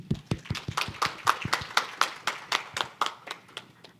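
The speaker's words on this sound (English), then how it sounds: "That deserves a big round of applause." A small conference audience claps in a fairly sparse, quiet patter of distinct hand claps, individual strikes audible in an uneven rhythm over about four seconds.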